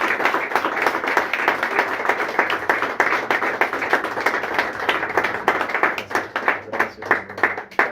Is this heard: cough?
no